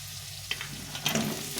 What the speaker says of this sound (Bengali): ঝিঙেটা একটু অল্প করে ভেজে নেব।